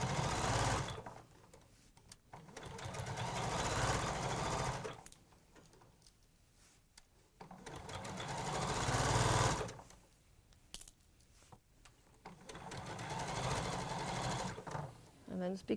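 A sewing machine stitches fabric for a doll, running in several bursts of rapid mechanical whirring, separated by pauses while someone talks over and between the runs.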